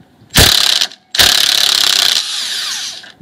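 Two close, loud bursts of rapid ratchet clicking from a wrench loosening a bolt on the front sway bar clamp of a Mercedes W163 ML, the second burst longer and trailing off, with no talk.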